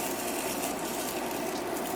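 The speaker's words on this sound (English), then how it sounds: "That's the sound of dried parsley." Dried parsley rustles and crackles on a dehydrator tray, giving a steady, close, dense crisp noise for two seconds with no talk over it.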